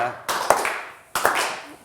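Studio audience on a TV word quiz show gives two short bursts of hand clapping, each fading quickly, with the host talking over and between them.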